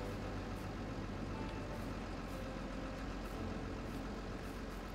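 CAT dumper truck in Farming Simulator, its diesel engine idling in a dense, steady rumble while the load is dumped, loud and constant with no talking.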